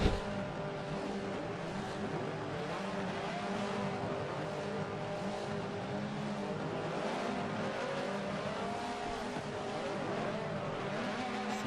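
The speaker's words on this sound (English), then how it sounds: "Revs are climbing." Touring race cars, a BMW among them, sit on the starting grid at Watkins Glen with engines idling and revving together in a steady, loud, continuous drone that holds throughout.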